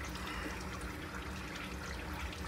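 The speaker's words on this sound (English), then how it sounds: "We're gonna lose some coolant." Coolant drains from a Chevy engine as a housing is pulled off, a steady splashing trickle of liquid falling into a bucket, continuous and fairly close.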